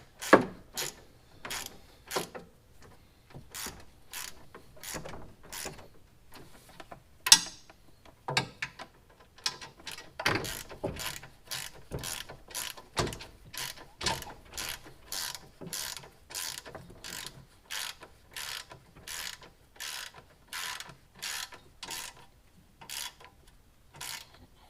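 A ratchet wrench on a six-inch extension clicks through repeated strokes, tightening bolts on a winch mounting plate for a Honda Pioneer, with steady rhythmic bursts of ratcheting that quicken and continue throughout.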